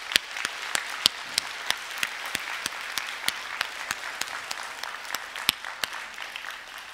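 A church congregation applauds its volunteers with a steady wash of clapping, punctuated throughout by sharp, evenly spaced loud claps close by.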